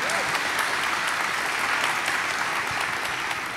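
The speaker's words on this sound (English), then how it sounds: "clap for that." At a university plenary session on financial aid, the audience breaks into applause, an even sheet of clapping from a large room that continues without pause.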